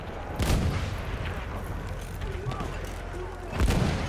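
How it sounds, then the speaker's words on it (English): Rifle grenades and gunfire in a military shooter game: two heavy booms land a few seconds apart, with a rumbling bed of battle noise and distant shots between them, mixed with voices. "Rifle grenades on the way."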